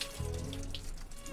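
Hot water splashing and running steadily while an old man is being bathed, close by, with a continuous pouring wash.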